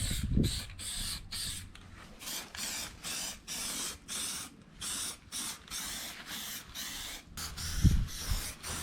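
Spray paint going onto the grill of a G35 street car build in a rhythmic series of short hissing bursts, a dozen or so close passes with brief gaps, plus a couple of faint knocks.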